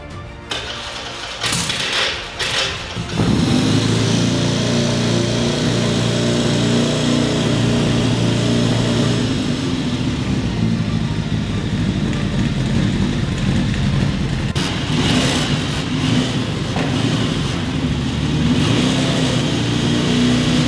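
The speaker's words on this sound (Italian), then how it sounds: "possiamo accenderla che sentiamo anche il rombo dello scarico fatto in casa" A motorcycle fitted with a homemade exhaust cranks and fires up after a few seconds, then settles into a loud, close, steady run, with a sharper burst of revving near the end.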